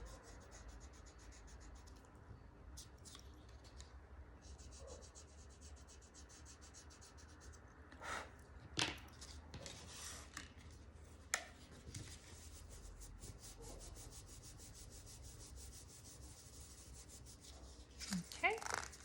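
Eraser rubbing out pencil marks on a paper junk journal folio, soft faint scratchy scrubbing strokes in quiet surroundings with a few light taps.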